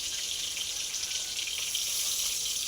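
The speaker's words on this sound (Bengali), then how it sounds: "এবার আমি হালকা করে জল দিয়ে দিচ্ছি" Water is poured lightly into a pan of soybean curry with grated ginger, a steady hissing, sizzling wash running close and alone throughout.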